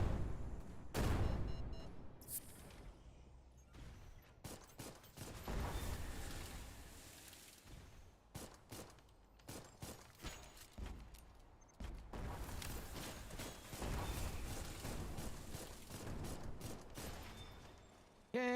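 Rapid bursts of machine-gun fire from a spider enemy in the video game Dolls Nest crackle loudly in dense, repeated volleys with short gaps, continuing throughout.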